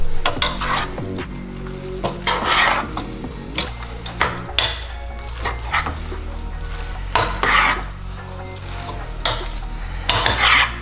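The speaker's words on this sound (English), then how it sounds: "Mix this one more time." Food being stirred and mixed in a pot in a home kitchen: irregular scraping and clinking of a utensil against the pot, with intermittent louder knocks and a low hum beneath, no talk.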